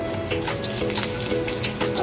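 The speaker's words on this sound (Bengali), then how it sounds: "এইবার এতে আমি একটা শুকনো লঙ্কা ফোড়ন দিচ্ছি" A dried red chili being tempered in hot oil for a rui fish egg and mango chutney, giving a steady, close sizzle and crackle with faint tonal hums underneath.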